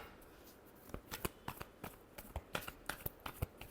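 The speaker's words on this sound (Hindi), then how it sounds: "last shuffle" Playing cards being shuffled during a tarot-style reading: a run of crisp riffling snaps and flicks that speed up, close and fairly quiet, with no talking.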